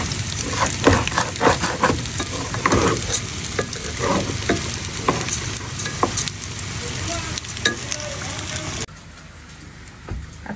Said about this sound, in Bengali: এদিকে মাংস মোটামুটি কষানো হচ্ছে, আলু দিয়ে একটু